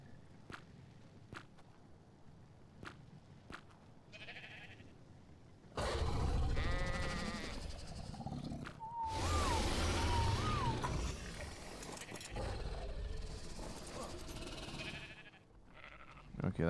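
Sheep bleat in ARK Survival Ascended amid a loud, noisy burst of game sounds, with wavering cries over a dense wash, after a quiet stretch of soft clicks and thuds.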